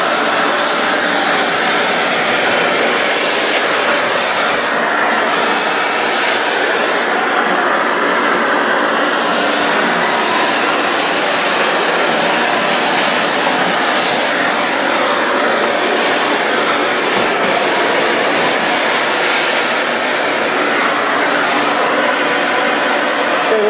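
A ProTeam QuietPro backpack vacuum with HEPA filter runs on high speed over a hardwood floor, giving a steady, loud broadband whoosh with an airy hiss that holds constant throughout, with no talking.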